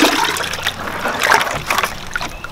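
Water is scooped by hand from a planted stock tank holding snails and aquatic plants into a bucket: close, brief sloshing and splashing with trickling drips, loud and near, no talk.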